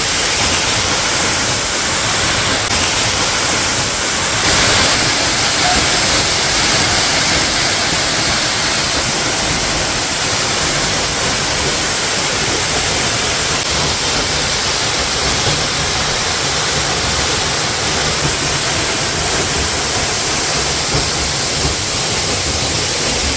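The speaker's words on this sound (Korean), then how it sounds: "떨어지는 물소리가 금오산의 신금을 울린다 해서 명금폭포로도 불리고 있는데요." Water plunging down Daehye Falls, a 28 m waterfall on Geumosan mountain swollen with heavy flow, a dense, steady roar of broadband rushing water that holds constant and close throughout with no voices.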